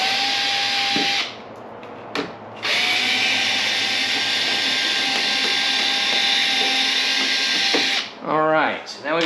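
A power drill runs in long, loud sustained whirs, backing screws out of the front of a Cadillac CTS, with brief pauses between runs and a voice speaking near the end.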